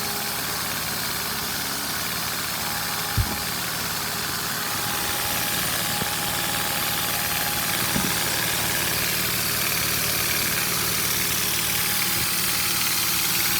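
A Lego vacuum engine with four 3x3 pistons runs steadily, giving a continuous mechanical hum and buzz with faint periodic ticks and a few louder clicks, close and alone.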